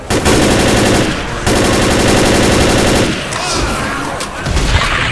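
Sustained rapid automatic gunfire in Left 4 Dead hammers out in two long, loud, close bursts, broken by a short pause, then trails off into scattered shots and game noise.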